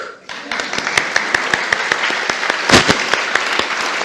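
Audience applause at the end of an autumn keynote lecture, a dense wash of many hands clapping steadily for about four seconds, with a few sharp individual claps and a brief louder swell near the end.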